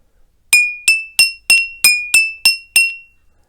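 Eight bright, ringing taps on glasses holding different amounts of water in a steady rhythm, each a clear high chime that fades quickly, close up with no talking.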